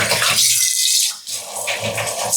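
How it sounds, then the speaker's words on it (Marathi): A cooking pot is rinsed with water, with splashing and rattling of the pot, a short pause in the middle, then more close washing sounds. "पुन्हा पातेलं हलकंसं धुवून घेऊया."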